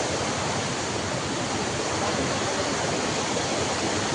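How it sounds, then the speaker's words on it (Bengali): Water pours down a waterfall in a steady, dense roar that stays loud and unbroken throughout, with no voices over it. "কিরম ভাবে পানি পড়তেছে তলে।"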